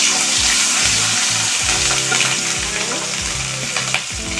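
Cumin, coriander and ginger paste frying in a pan for a Bengali potato and papaya curry, a loud dense hiss of sizzling oil with stirring scrapes underneath, fading slightly toward the end, no talk.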